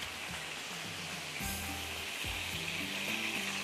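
Food fries in a pan while cooking a fruity cocktail recipe, giving a steady close sizzling hiss with a low tonal hum underneath.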